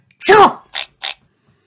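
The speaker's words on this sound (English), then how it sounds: "George cannot stop sneezing." A cartoon piglet with a cold gives a loud voiced sneeze followed by two shorter breathy sniffs or small sneezes, all close and isolated against silence, performed by a voice actor.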